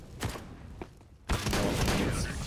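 M4 rifles fire in short bursts in a Counter-Strike match on the Overpass map. A few sharp shots come first, then dense continuous gunfire takes over, with a voice faintly in the background.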